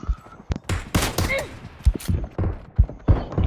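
Several sharp Kar98k bolt-action rifle shots in a team deathmatch video game round, spaced irregularly, loud and punchy against busy game ambience with a faint background voice.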